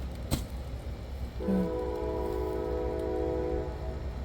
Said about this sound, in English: I'm hoping the train will make that sound again.